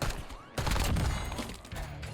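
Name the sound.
sniper gunfire in video game Call of Duty Warzone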